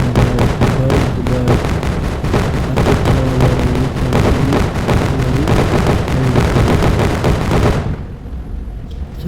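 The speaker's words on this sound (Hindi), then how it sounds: "अब एक के बाद एक हमारी ट्रेन सिलेंडर फोड़ रही है।" In an Indian GTA-style video game, a train smashes through gas cylinders one after another, setting off a loud, rapid, nearly unbroken string of booming blasts that stops abruptly near the end and leaves a low rumble.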